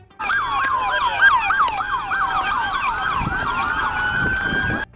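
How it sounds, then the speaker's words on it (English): Police cruiser sirens wail continuously during a neighborhood car chase in northwest Oklahoma City, loud and close with rapid rising and falling yelps layered over steady road noise. "cruisers trailed closely behind Broaddus's car, sirens wailing and lights flashing"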